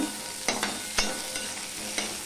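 Dry cut potatoes go into hot oil in a frying pan and sizzle softly, with several sharp scraping clinks from a spatula stirring them at a close, moderate level.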